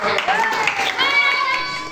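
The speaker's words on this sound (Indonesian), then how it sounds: "Ya, tepuk tangan." A class clapping hands together in a school lesson, a steady patter of claps mixed with children's voices and some tonal chatter over about two seconds.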